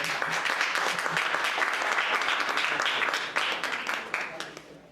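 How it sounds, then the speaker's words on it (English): Sustained audience applause fills a talk-event hall as the next guest is welcomed, dense clapping holding steady before tapering off near the end. "Everyone, a round of applause for our next guest."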